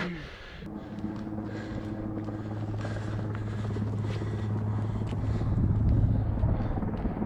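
Helicopter droning steadily over a mountain above a dirt-and-grass trail on Mont d'Or, a continuous low rotor hum that swells slightly louder toward the end, with wind noise buffeting the microphone.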